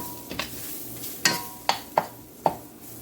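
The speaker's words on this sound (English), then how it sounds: "you're going to just let it fry up right here" Meatballs frying in a pan under a steady low sizzle, punctuated by several distinct metallic taps and scrapes of a utensil against the pan.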